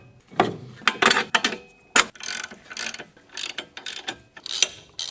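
A power ratchet works under a Coda electric car during wheel bearing and gearbox servicing, giving several close, loud bursts of rapid clicking separated by brief pauses.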